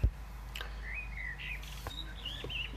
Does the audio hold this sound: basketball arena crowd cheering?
no